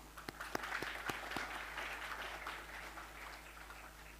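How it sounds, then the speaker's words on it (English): A small audience applauding at the launch of an ESG framework and manual, with a faint, scattered patter of claps and a few sharper single claps early on, heard from a distance. "Let's give it a applause."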